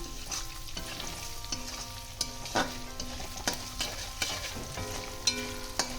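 Potatoes frying in oil with spices and whole-spice tempering, alongside fried coconut, for a jackfruit curry; steady close sizzle with repeated sharp scrapes and clinks of a spatula stirring the pan, no voices.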